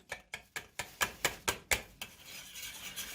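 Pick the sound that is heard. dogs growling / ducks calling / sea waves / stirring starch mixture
stirring starch mixture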